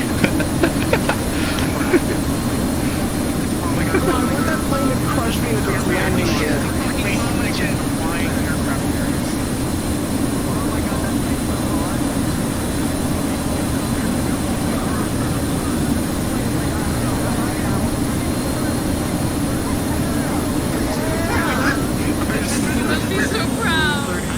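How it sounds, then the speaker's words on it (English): A very large airplane's engine roars steadily and loud in a VRChat flight showcase by a stunt team, a broad continuous rush with hissing air under it, holding level throughout. "This airplane is that big."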